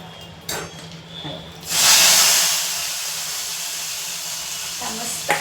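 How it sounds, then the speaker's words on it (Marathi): Hot tempering with dried red chillies poured onto Gujarati-style kadhi, a sudden loud hissing sizzle that flares up and then settles into a sustained steady hiss, close by after a few quiet knocks. "ही अशी कडक गरम फोडणी आहे ती याच्यावर घालायची"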